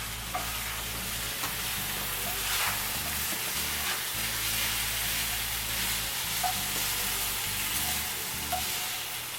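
Vegetables frying in a pan, a continuous close sizzle with scraping stirring strokes throughout.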